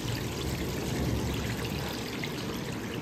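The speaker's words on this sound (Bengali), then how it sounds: "তো দেখো, কালারটা ঢেলে দিল এখানে।" Melted orange-coloured candle wax poured into rice, a steady close trickling pour with a soft continuous stream that runs unbroken and even throughout.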